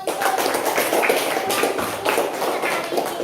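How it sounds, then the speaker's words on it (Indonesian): A primary school class gives a burst of applause, loud and close, with dense uneven clapping that swells and dips over a few seconds while young voices mix in. "aplaus dulu"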